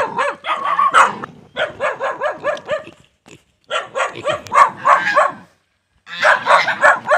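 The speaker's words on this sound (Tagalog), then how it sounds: "May aso" Repeated dog barks in quick bursts, loud and close, with short pauses between volleys and a brief lull near the end before barking resumes.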